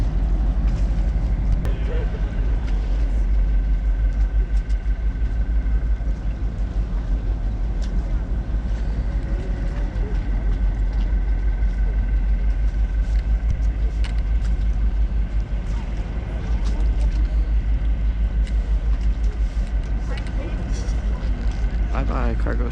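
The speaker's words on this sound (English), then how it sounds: "Bye-bye, cargo ship." A large ocean freighter cargo ship on the Savannah River passes under a bridge with a steady, loud low rumble and engine drone, plus wind and traffic noise nearby and a voice speaking over it.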